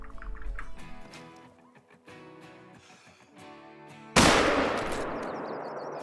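A single sharp, loud rifle report at a broadside mule deer about 330 yards off in the hunting game Call of the Wild, cutting in suddenly after quieter game ambience and fading out with a lingering tail.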